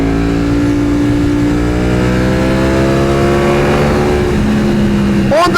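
A lowered Ducati motorcycle's engine drones steadily and loudly as it rides through corners, with the pitch slowly shifting, and wind rumbles underneath throughout.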